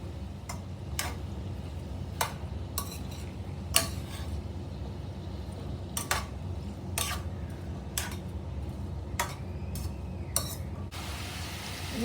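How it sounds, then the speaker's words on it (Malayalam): Potatoes and carrots sauté in oil in a pan, giving a steady, soft sizzle broken by regular sharp clicks of a spoon against the pan as they are stirred, with no talking. "ഒരു 2 മിനിറ്റ്സ് ഒന്ന് എണ്ണയിൽ വഴറ്റണം."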